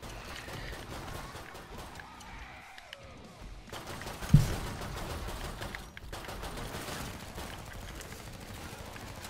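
Gunfire from the video game Killing Floor 2 aimed at a Scrake comes as a dense, continuous barrage with one sharper nearby shot, mixed into a busy game soundscape.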